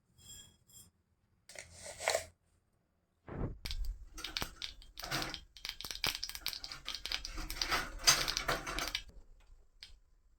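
Mustard seeds splutter and pop in hot coconut oil while Kerala-style rasam is cooked, a close, irregular crackling that comes in bursts and then runs on continuously.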